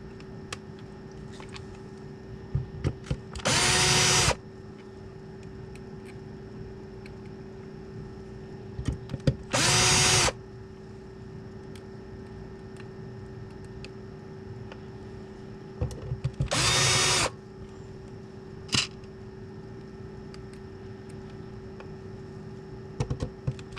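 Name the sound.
power drill driving screws into a radio's covers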